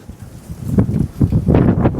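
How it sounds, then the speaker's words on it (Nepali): Strong wind gusts buffet the microphone outdoors at a pig farm, making low rumbling bursts that grow louder and more frequent toward the end. "हावा कत्रो चलेको यार"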